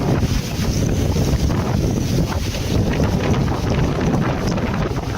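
Strong typhoon wind batters the Pangasinan area, a loud, steady roar with heavy gusting buffet across the microphone and no pauses throughout.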